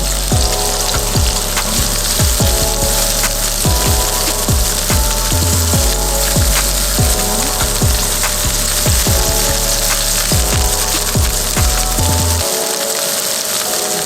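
Onions and vegetables sizzle in a hot pan during a quick sauté for japchae, a steady loud crackling fry that runs throughout, with clinking of a utensil stirring and tossing rhythmically.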